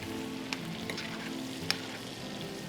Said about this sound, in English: we're going to take this butter and we're going to gently coat the salmon with this